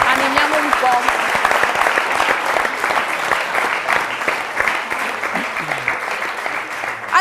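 Audience applause at a youth event in Friuli, a steady dense wash of clapping from a seated crowd lasting the whole stretch, fairly loud and even with no talk over it.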